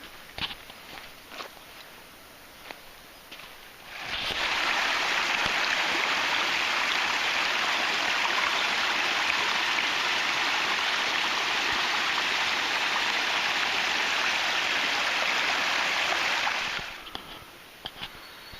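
A creek flowing into a reservoir at its mouth gives a steady, close rushing and splashing of water for most of the stretch. Brief footsteps come before and after it, with no talking.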